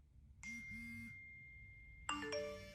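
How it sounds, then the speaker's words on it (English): iPhone 5 default text tones played back to back, the iOS 6 Tri-tone then the iOS 7 Note, each a short chiming alert from the phone speaker, heard alone with a pause between them. "And the default text tone was now note instead of tritone."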